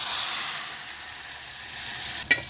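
Hot tempering poured into ground coriander and mint chutney, giving a steady broad sizzle that fades slightly, then a brief sharp spatter near the end, with no talking.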